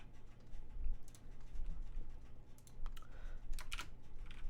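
Quick, uneven clatter of fingers typing on a computer keyboard, close and moderately loud, with bursts of keystrokes separated by brief pauses and no talking.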